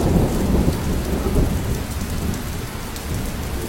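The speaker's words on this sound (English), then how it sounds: "Look, it's like raining super hard over here." Heavy rain pours down with thunder rumbling low underneath, a dense steady roar close by with no voices.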